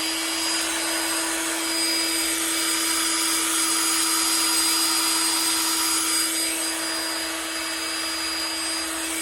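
A loud, steady electric whine of a power drill spinning a cleaning rod inside an airsoft gun barrel, with a constant high hum that barely varies.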